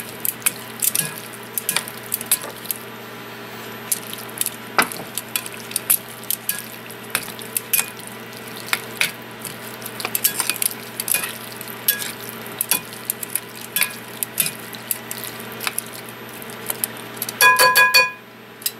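Sweet potato noodles are tossed with sesame seed and soy sauce for japchae, giving soft wet squelching and frequent light clicks of utensils against the bowl, with a louder clatter near the end and no talk.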